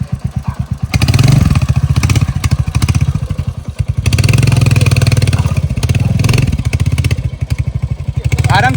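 A Hunter motorcycle rides off with a loud, close, thumping single-cylinder beat that surges through repeated throttle bursts and eases between them. Voices talk faintly in the background.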